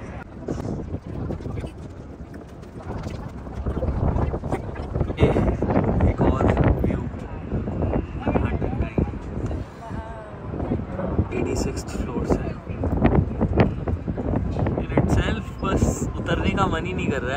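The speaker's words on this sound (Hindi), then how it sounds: "अब यहाँ से कि बस हवा चल रही है बढ़िया" Steady wind gusts buffet the microphone at the top of the Empire State Building in New York, a continuous loud rushing with no clear breaks throughout.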